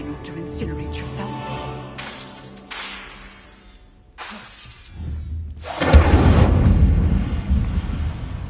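An Incendio fire spell cast in a Harry Potter video game, a sudden loud whooshing burst of flame that roars on for a couple of seconds after calmer ambient tones and a voice.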